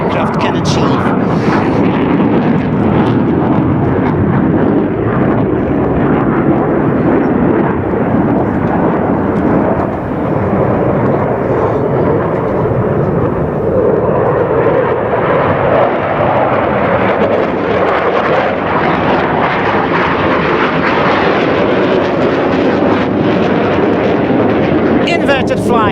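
Military jet at an air show roaring loudly and continuously overhead, a broad thunderous engine rumble that swells and shifts as it passes, with an announcer talking over it.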